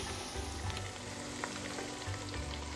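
Diced potatoes and carrots sautéing in a pot for a vegetable pulao, a faint, even sizzle with a low hum underneath, quiet and continuous without voices.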